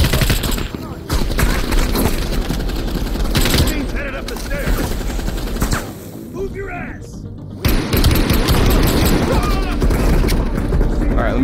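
Heavy automatic gunfire rattles in rapid bursts during a Call of Duty: Black Ops Cold War campaign firefight, loud and nearly continuous with a brief lull, mixed with booms and mechanical clanks.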